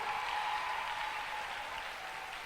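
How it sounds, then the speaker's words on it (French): A church congregation applauds steadily, a dense, even wash of clapping that holds at a consistent level throughout, with no voices standing out. "On acclame Jésus de l'avoir délivré."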